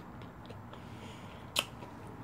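Someone bites into crunchy White Castle fish nuggets while eating, a single sharp crunch standing out from faint chewing against a quiet room, with no talk.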